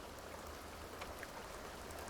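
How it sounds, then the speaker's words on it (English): Rain falling in The Sims 2 at Pleasantview, a soft, even patter and hiss that stays constant and quite faint, with no one speaking. "It's raining."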